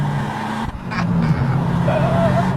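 A Honda Type R's engine pulls hard and loud from inside the front-wheel-drive car, around 310 horsepower, holding a steady, sustained roar with a brief dip partway through and a rising tone near the end.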